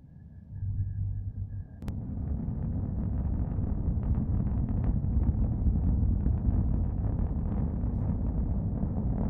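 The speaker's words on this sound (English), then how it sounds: "Let's listen to the roar of these 9 Merlin engines." Nine Merlin engines of a SpaceX Falcon 9 rocket launching from Florida carrying a communications satellite, heard from a press site as a steady, dense, low roar and rumble that swells after a brief sharp onset and holds loud throughout.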